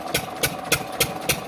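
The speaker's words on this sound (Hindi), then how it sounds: "ये मशीन इंजन चल रहा है" A farm engine driving a water pump chugs steadily beside fields, a close, loud, rhythmic thumping at a regular beat with no voices over it.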